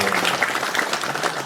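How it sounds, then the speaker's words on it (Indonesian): Steady applause from an audience at a gathering in Kandis, a dense continuous patter of clapping lasting throughout at moderate level, with faint voices mixed underneath. "Tepuk tangan semuanya."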